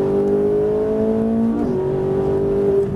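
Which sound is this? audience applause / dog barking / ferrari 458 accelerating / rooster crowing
ferrari 458 accelerating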